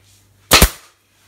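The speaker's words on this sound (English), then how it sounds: "I'm using one of these air pressure staple guns." An air-pressure staple gun fires one sharp, loud double-cracked shot, driving a staple through wadding into a dining chair being restored, with quiet before and after.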